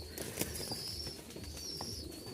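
A pair of Lahori Sirazi pigeons cooing softly in a loft, with repeated low burbling coos and a few faint higher chirps, quiet and close with no talk.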